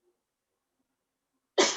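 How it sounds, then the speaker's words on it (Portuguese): A single cough bursts out near the end of otherwise silent air, close and fairly loud, picked up by an open microphone during an online meeting. "você que tossiu aí, seu microfone está, inclusive, aberto já"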